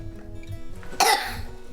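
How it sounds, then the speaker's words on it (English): One sharp, forceful cough bursts out over faint background noise, then fades quickly. "now one more cough to follow it up"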